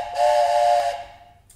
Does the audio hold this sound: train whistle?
yes